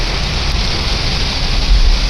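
Heavy, continuous rain drums on a moving car from inside the cabin. It makes a dense, loud, unbroken wash of noise over a low road rumble, with no speech.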